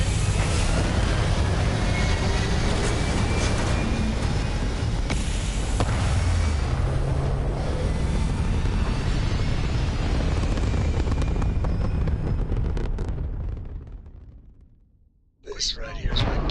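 A Starfield spaceship lifts off toward orbit with a loud, dense roaring rumble that fills the sound for about fourteen seconds, then fades nearly away before a fresh burst of noise returns.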